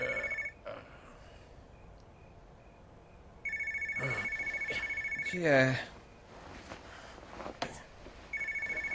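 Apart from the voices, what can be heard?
telephone ringing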